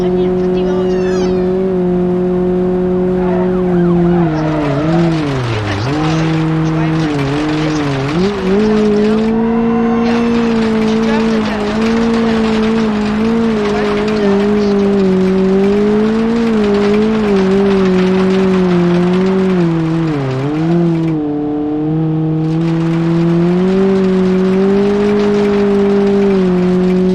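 A car in BeamNG races at around 150 miles an hour without brakes, its engine a loud, sustained high-revving drone with repeated swoops in pitch, while a person talks over it at times.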